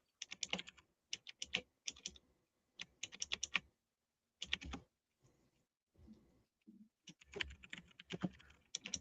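Typing on a computer keyboard, close-up bursts of rapid key clicks separated by short pauses, with no voices.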